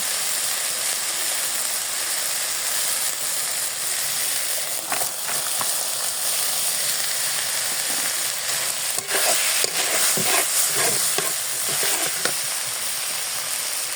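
Onions go into hot oil in a pan with taki fish and sizzle loudly and continuously, with stirring scrapes and clinks of a utensil rising near the end, no voices.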